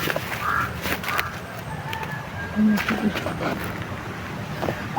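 Crows caw outdoors in brief, scattered calls of moderate loudness over steady background noise, with faint speech-like sounds mixed in.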